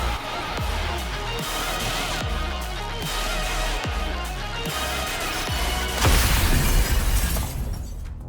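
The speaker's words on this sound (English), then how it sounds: "As the crystals shatter" Crystals shatter in the video game NIKKE in a dense, loud crashing passage with repeated rhythmic impacts under a steady backdrop, swelling into a brighter burst of breaking near the end.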